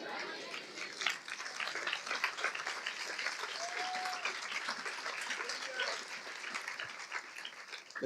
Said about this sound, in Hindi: अभी देखो तालियां भी ठीक से नहीं बज रही